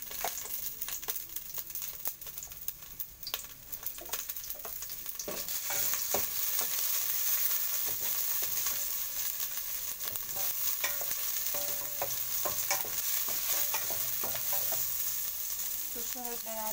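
Garlic frying in hot cooking oil while cooking crab in coconut milk, with a steady close sizzle, crackles and stirring scrapes that grow louder after a few seconds and carry on without talking.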